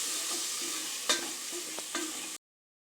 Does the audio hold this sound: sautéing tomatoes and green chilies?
yes